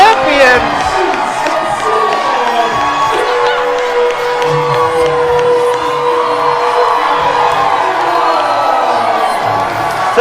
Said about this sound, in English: Listen to that crowd. Yeah, that is a huge ovation.